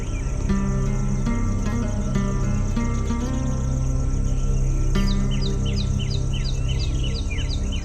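An Indian paradise flycatcher calls out in the wild. Short bird notes repeat over a dense, steady bed of insect chirring, with no voices.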